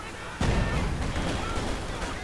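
A Land Mattress rocket artillery battery in Company of Heroes 2 opens fire with a sudden loud blast. A dense, rolling barrage of rocket launches and booms follows and sustains to the end.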